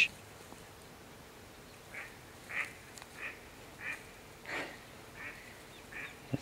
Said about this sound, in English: Let the ducks take off.